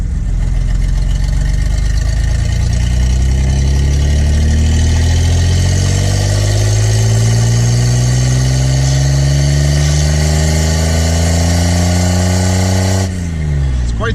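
An old, slow car idles loud and close with a straight-piped exhaust, giving it a rumble like an inline six. The engine revs up slowly and steadily, its pitch climbing over several seconds before it drops off sharply near the end.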